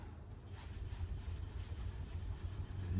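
A handmade kitchen knife is sharpened on a premium natural whetstone, giving steady close-up rubbing and grinding strokes with a low, continuous gritty texture throughout, no voices.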